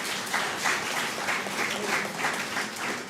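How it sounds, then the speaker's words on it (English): An audience applauds steadily at a school results ceremony, a dense patter of clapping hands sustained throughout with no voices over it. "for this they deserve a round of applause"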